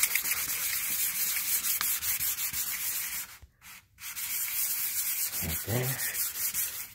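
A Nissan 240SX S13 Silvia's existing paint is hand-sanded with rapid, continuous scratchy back-and-forth rubbing that stops briefly midway, then resumes with a short spoken remark near the end.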